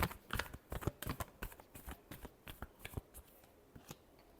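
Tarot cards are shuffled by hand, a quick series of close, crisp riffling flicks and taps that thin out toward the end, quiet and without speech.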